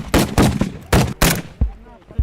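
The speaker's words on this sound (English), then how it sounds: "These guys are also using heavy machine gun dushkas and RPGs against ISIS positions." Heavy DShK machine-gun fire on a front line against ISIS positions, loud broadband bursts of rapid shots in two close pairs, with a shorter crack and fading echoes after, voices faintly present.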